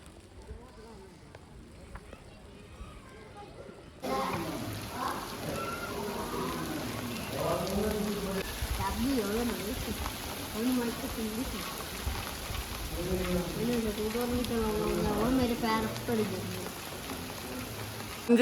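Heavy rain starts suddenly and keeps falling as a loud, steady wash of hissing drops, with a person talking over it throughout.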